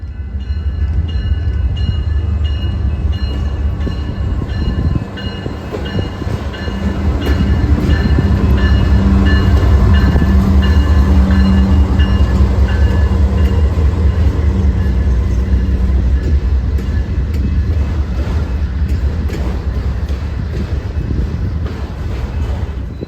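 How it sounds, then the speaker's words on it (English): A CPKC autorack freight train rolls steadily past nearby, its rumble and rhythmic wheel clatter building to a loud, sustained roar, then easing slightly toward the end. "we'd see a CPKC Autorack train come off the IHB with a solo Krusty Beaver in the lead"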